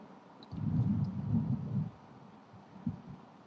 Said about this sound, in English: Probably gonna hear some thunder.